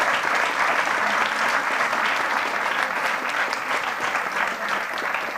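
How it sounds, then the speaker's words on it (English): Steady, dense applause from a large crowd fills the room, loud and continuous throughout with no pauses. "Big round of applause."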